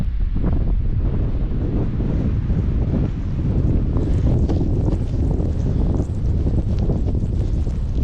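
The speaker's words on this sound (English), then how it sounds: "It's blowing a hoolie, it's really fine wet drizzle" A strong gale buffets the microphone on the hilltop of Knotrig in fine wet drizzle, a loud, continuous low roar with gusty surges and no pauses.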